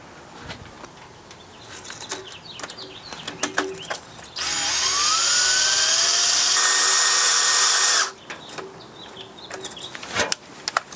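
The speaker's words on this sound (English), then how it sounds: "Gonna hook this up to a cordless drill and spin it counterclockwise, and we'll spin the oil pump." A cordless drill spinning a 1968 Mustang Fastback's oil pump counterclockwise whirs steadily for several seconds, loud and close, rising slightly in pitch, with clattering and handling noises before and after.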